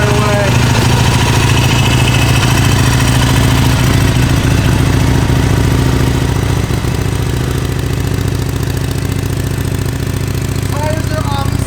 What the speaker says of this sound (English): Just gonna fire it up here.